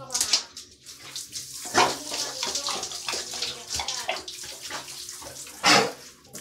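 Tap water runs and splashes during a dog's bath, with bursts of splashing and spray rising and falling over a few seconds, fairly close and loud; no one talks over it.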